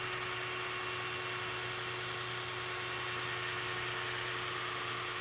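A handheld polisher works with swirl remover, giving a steady high-pitched whine that hums evenly and continuously at close range, with no voices and no change in pitch or breaks.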